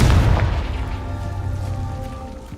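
A Confringo fire-spell explosion in Hogwarts Legacy goes off as a loud, deep boom right at the start, then rolls off into a long, ringing, humming tail that slowly fades.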